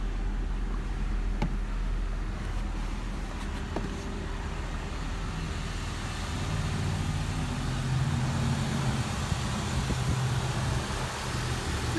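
A 2004 Honda Civic with nearly 158,000 miles idles steadily after starting, a low, even engine hum that holds constant throughout, with no talking over it.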